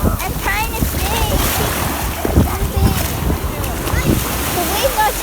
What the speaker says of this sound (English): The waves are taking me.